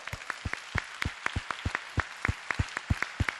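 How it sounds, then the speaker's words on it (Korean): A church congregation claps together in a steady, rhythmic unison beat, about four sharp claps per second, loud and close, with no talking over it. "주님께 우리 감사의 박수드리죠."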